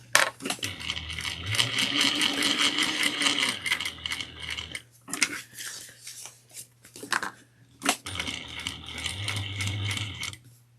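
A sewing machine stitches a tote bag in rapid rhythmic bursts of needle strikes, stopping briefly in the middle for a pivot before running again, close and clear.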